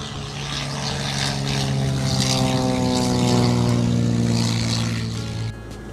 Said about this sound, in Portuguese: Vai o jato batendo veneno ali